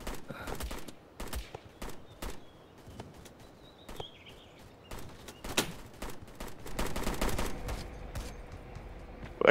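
Gunfire in the Roblox shooter Blackhawk Rescue Mission 5 crackles throughout as many short, fairly close shots in irregular bursts and rapid strings, over a low rumbling background with no speech.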